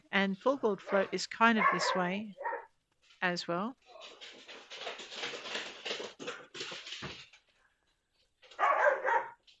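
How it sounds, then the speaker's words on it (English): Pet dogs play in the background with barks and excited whimpering yips, heard off and on while a person talks over them. "You can hear my dogs playing in the background."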